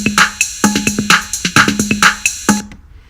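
Drum track for the chorus of a student song project, with a steady pattern of punchy kicks, snare hits and bright hi-hat ticks playing alone, up close, ending with a short decay.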